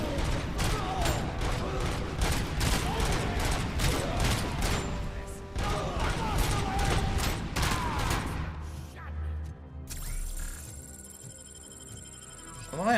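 Rapid bursts of automatic gunfire from the game RoboCop: Rogue City crackle loudly in repeated volleys, then give way to softer mechanical game sounds and a faint tone near the end.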